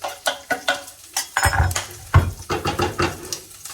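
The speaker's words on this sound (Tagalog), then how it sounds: "Gisa na natin yung bawang" Garlic sautéing in rendered pork fat gives a soft sizzle under rhythmic, fairly close knocks and scrapes of a utensil against the pan, with a few heavier clunks midway.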